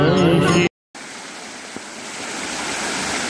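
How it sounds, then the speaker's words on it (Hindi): Cold water from a mountain waterfall rushes in a steady, broad hiss on a walking route to a Himalayan temple, loud and unbroken after a brief burst of chanting voices. "ठंडा शीतल जल यहाँ से इस समय बह रहा है"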